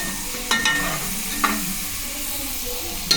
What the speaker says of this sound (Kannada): ಸ್ವಲ್ಪ ಬ್ರೌನ್ ಕಲರ್ ಆಗೋದು ಫ್ರೈ ಮಾಡಬೇಕು.